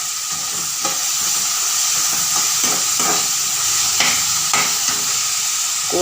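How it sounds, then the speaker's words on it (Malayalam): Chopped tomatoes and green chillies sautéing in a hot pan for a mushroom curry, with a steady close sizzle and frying hiss broken by occasional stirring scrapes and clicks. "രണ്ട് തക്കാളി, 3 പച്ചമുളക് അരിഞ്ഞ് വഴറ്റാൻ വെച്ചിരിക്കുന്നത്"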